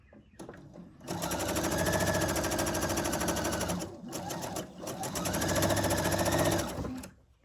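A sewing machine stitches a quilt block seam, its rapid mechanical chatter running in two close bursts separated by a brief pause.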